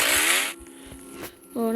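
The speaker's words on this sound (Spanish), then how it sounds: "yo ya tengo una motosierra" Chainsaw in the video game 99 Nights in the Forest, a loud buzzing whine at the start that drops away, then revs back up briefly at the end, with a voice talking in between.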